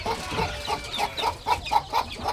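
Chickens cluck on a farm where chickens and turkeys are raised. The clucks come in a rhythmic series of short, close, fairly loud calls, about four per second.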